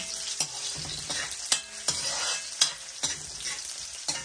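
Onion and garlic sautéing in a pan for pancit miki, a steady close sizzle punctuated by regular sharp clacks and scrapes of a utensil stirring, no voices.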